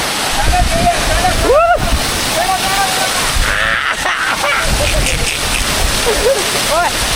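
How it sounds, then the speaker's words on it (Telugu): Constant roaring rush of a waterfall nearby, with a person speaking over the water. "ఇదిగోండి ఇక్కడ ఇదిగోండి వాటర్ ఫాల్స్."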